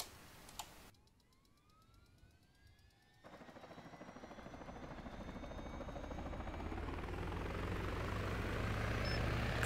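A military helicopter at an airbase refuel, rearm and repair pad spools up, its turbine whine rising in pitch after a brief quiet start, then a growing rotor rumble that gets steadily louder and nearer.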